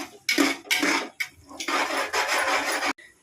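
A spatula scrapes and rasps against a pan, sautéing the ingredients in sustained close strokes that stop abruptly near the end.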